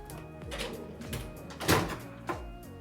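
A Cerakote-coated drawer on a 12S LiPo battery charging rack slides open, giving a short scraping glide with a firmer knock near the end, set against a steady background hum.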